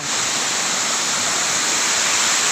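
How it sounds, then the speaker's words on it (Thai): A waterfall at Letongku in Tak province roars steadily and loudly as a dense, unbroken wash of rushing water, close by and alone with no voices. "คือเป็นน้ำตกที่สวยงาม ติดอันซีนของ เลตองคุ จังหวัดตาก"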